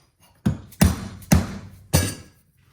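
Four sharp metallic hammer taps on a steel header tube for a boosted 427 LS engine, worked to round it against a flange, spaced irregularly about half a second apart with short ringing decay, close and clear with no talk.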